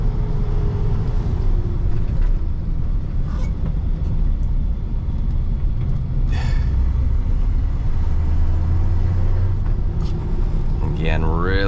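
A 1985 Chevy K10 short-bed truck engine drones steadily while driving, with road and cabin noise and someone talking over it.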